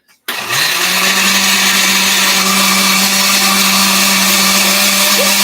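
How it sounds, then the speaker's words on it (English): A kitchen blender whirs at full speed, blending meatball ingredients for albondigas, starting abruptly after a brief quiet and holding a loud, steady motor drone throughout. "so I put those in the blender. I'm going to plug it in real quick"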